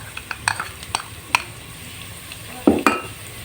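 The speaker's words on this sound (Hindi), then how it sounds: "अब इसमें हम डालेंगे 1 टेबल स्पून अदरक लहसुन का पेस्ट" Ginger garlic paste being stirred in a hot pot, with scattered scrapes and clinks of a spoon against the metal and a faint sizzle underneath, a few sharper knocks near the end.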